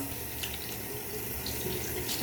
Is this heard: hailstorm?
no